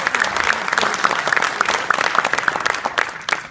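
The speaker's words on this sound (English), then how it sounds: "Let's give them a round of applause" A crowd at a governor's press conference at Niagara Falls gives a dense, steady round of applause, many hands clapping at once, close and loud, with no voices.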